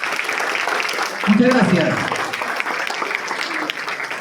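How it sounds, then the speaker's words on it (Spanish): Audience applause in a university auditorium at a book presentation during a book fair: steady, dense clapping fills the whole stretch, swelling slightly near the middle, with a brief spoken thanks over it. "Despedimos con fuertes aplausos."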